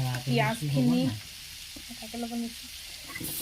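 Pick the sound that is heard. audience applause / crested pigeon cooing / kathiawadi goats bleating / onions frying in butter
onions frying in butter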